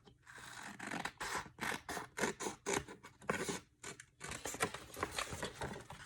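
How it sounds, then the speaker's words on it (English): Scissors cut through a vinyl sheet in a quick run of close, crisp snips and scratchy slicing strokes, pausing briefly before another burst of cuts. "I'm going to cut straight lines so it's even"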